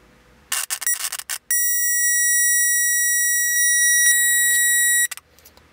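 A power probe's audible speaker sounds a steady electronic tone while testing a 12-volt stereo wiring line, a loud pure beep held for about three and a half seconds after some brief clicks and noise.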